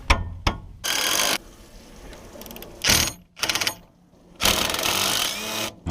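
Tools work loose the wishbone, drop link and track rod end on a Ford Focus suspension, with close, loud bursts of rapid mechanical rattling and ratcheting separated by short quieter pauses.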